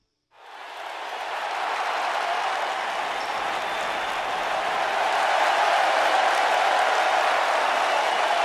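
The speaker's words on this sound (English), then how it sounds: "what an ovation by the Richmond crowd" Wrestling arena crowd at a televised SmackDown event in Richmond breaking into a loud ovation of sustained applause and cheering that swells quickly and holds steady throughout.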